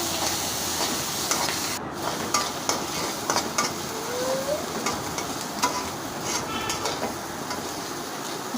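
An egg and chopped tomato fry in a pan with onions and chillies, a steady close sizzle broken by scraping stirs and clinks, with a brief drop in the sound partway through.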